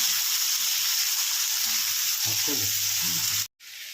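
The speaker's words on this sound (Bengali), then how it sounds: "দেখো আলুটা একটু ভাজা ভাজা করে সেদ্ধ করা ডুমুরটা দিয়ে দিয়েছি" Potatoes and boiled figs fry in a pan with a steady loud sizzle throughout, and a few brief stirring scrapes come near the end before a sudden cut.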